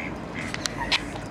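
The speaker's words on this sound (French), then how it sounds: "Bon, on est arrivé au canard." Ducks at a pond give a few short quacks and calls over a steady outdoor background of wind and low rumble, fairly faint with no clear talk.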